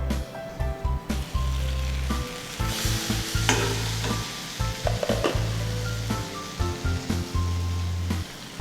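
Pork ribs cooking in a pan for a Mangalorean Catholic recipe, with loud, close sizzling and frequent spatula scrapes and knocks set against a low, steady hum throughout.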